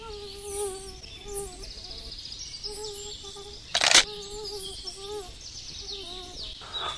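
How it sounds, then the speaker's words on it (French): A fly buzzes around a room, a thin persistent drone with shifting pitch behind quiet indoor background noise, punctuated by one sharp noise burst midway. "Allez, bougez pas, il y a une mouche."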